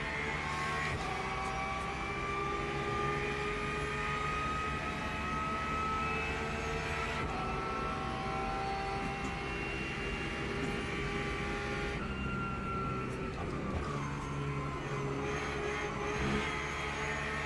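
Race car engines at Le Mans in a racing video game, a steady droning roar of high-revving motors with shifting pitch and no talk.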